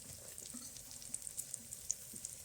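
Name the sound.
ginger paste, green chillies and tomato frying for mutton curry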